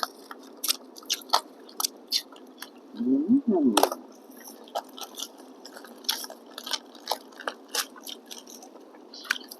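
Crunchy bites and wet chewing of Thai pork larb eaten close up, with repeated sharp crunches and soft squishy mouth sounds throughout, and a brief voiced murmur in the middle.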